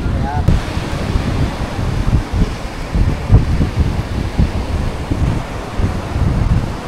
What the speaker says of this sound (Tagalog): Malamig ang hangin dito sa tabing dagat, eh.